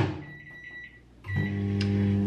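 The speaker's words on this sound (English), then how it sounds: "I'm gonna pop this in the microwave for 30 seconds until it's melted." A microwave oven is started with a couple of short beeps, then its motor hum and fan drone settle in as a steady, close electrical whir.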